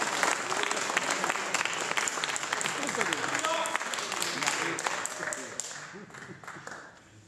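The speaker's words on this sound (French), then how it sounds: "Alors là, j'ai noté applaudissements." Sustained applause from a large audience at a general assembly fills the room, dense and steady, then thins and fades slightly toward the end.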